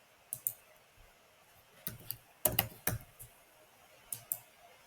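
Keystrokes on a computer keyboard while a username and password are entered: scattered clicks, then a dense cluster of clacks and a few later taps, close and fairly quiet, with no talking.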